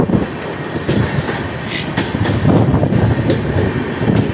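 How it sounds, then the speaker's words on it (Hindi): A passenger train, the 02569 Humsafar from Darbhanga to Delhi, rolls along the tracks toward Sahibabad. It makes a loud, steady rumble close up, with rhythmic clickety-clack from the wheels throughout. "तो साहिबाबाद की तरफ ये ट्रेन जा चुकी है।"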